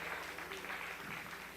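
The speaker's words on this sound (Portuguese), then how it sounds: "Aplauda mesmo o nome do Senhor e glorifique." A Portuguese-language church audience at Catedral do Amor claps in praise, producing a brief, fairly quiet wash of applause with faint voices mixed in.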